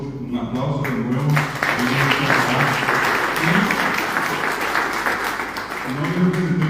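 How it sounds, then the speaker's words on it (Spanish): An audience claps at a cultural tribute event honoring Paraguayan language and culture, sustained applause filling the hall while voices murmur and speak faintly underneath. "Creo que se merecen todos un aplauso de nuevo."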